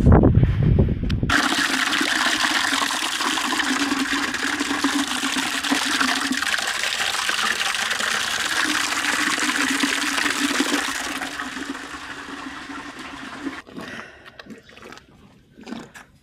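Water gushes and runs steadily for a long stretch, close by, watering calves and bulls on a farm, then cuts off, leaving a few faint splashes and clanks.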